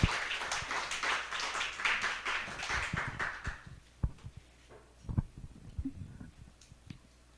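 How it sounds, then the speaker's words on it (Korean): Applause at a church Sunday service, a burst of clapping from the congregation that fades out after about three and a half seconds, followed by scattered thumps and quiet room noise. "박수."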